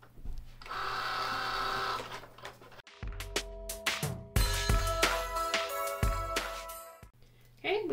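A vinyl cutting machine cuts a design, starting with a steady whirring motor, then after a short pause a run of rapid mechanical buzzing and clicking bursts as the blade carriage moves back and forth, close up.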